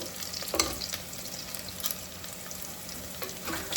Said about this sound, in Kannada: ಸ್ವಲ್ಪ ಹುರ್ಕೊಳ್ಳಿ.